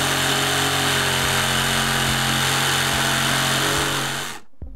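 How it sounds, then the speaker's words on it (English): A power tool, likely a reciprocating saw, cuts through nails beneath a water-damaged, rotted wall with a loud, steady buzzing drone that runs continuously, then stops abruptly. "Let's see if maybe I can cut these nails under here."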